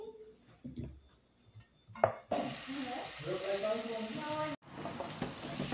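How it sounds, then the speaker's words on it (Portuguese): Onion sizzles and crackles in hot olive oil, a steady frying hiss that starts abruptly after some quiet clatter, with a person talking faintly in the background. "vamos precisar também de 2 colheres de azeite para fritar a cebola"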